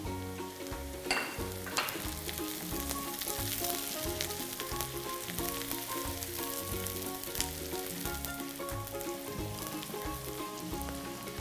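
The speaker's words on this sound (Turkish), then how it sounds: "Karıştırarak pişirmeye, yağımın içerisinde kavurmaya devam ediyorum" Onions and carrots fry steadily in hot oil as they are stirred, a continuous close sizzle with soft scraping from the stirring, heard alone without talk, for a Muğla-style Jerusalem artichoke stew.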